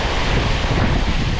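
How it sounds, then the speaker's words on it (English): Wind gusting hard through the gorge at Hell Gill Force waterfall, whipping the spray back up; a loud, steady roar of rushing air and water with the wind buffeting the microphone throughout. "You see all the water getting swept around with the wind and blowing it back up."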